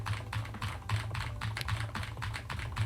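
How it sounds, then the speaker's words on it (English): Steady, fast typing on a computer keyboard, with quick, clustered key clicks in an uneven rhythm, close and moderately quiet. "I'm typing loudly here."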